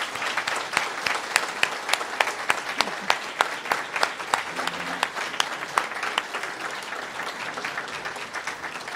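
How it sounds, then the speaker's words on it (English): Audience at a high school gala applauding its academic top 30 students and their honored educators, a dense, sustained round of clapping from many hands with distinct sharper claps standing out, fading slightly toward the end. "please join me in giving our academic top 30 and their honored educators another round of applause"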